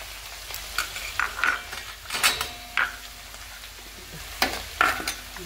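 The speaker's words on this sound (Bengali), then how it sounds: "এবার এই পোস্ত বাটাটা দিয়ে দিচ্ছি, দিয়ে একটু মাখা মাখা করব।" Chicken being stirred together with poppy seed paste in a pan for chicken posto: a run of scraping, stirring strokes with light sizzling behind them, close and fairly quiet, with no voices.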